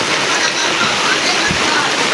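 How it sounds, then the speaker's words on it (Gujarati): Heavy rain pours down on a village after three days of nonstop downpour, a dense, steady wash of falling water filling the whole clip at close range with no pauses. "વરસાદ ભાઈ 3 દિવસ તો તમને કહેવાય ને નોન સ્ટોપ ચાલુ જ થયો"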